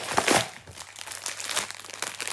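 Plastic packaging on a Stitch toy box crinkles and crunches in short, close bursts as it is opened, with a few brief rustling pauses.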